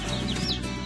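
Native Korean chickens, hens with chicks, cluck and cheep in a brief close burst, soft clucks under high chirps.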